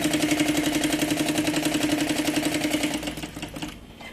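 A sewing machine running a safety seam along the edge of a bag lining, with a loud, fast, steady rhythmic whir that slows and fades as it stops near the end.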